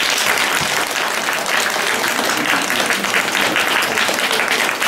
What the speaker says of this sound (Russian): Друзья, наши аплодисменты, Илья.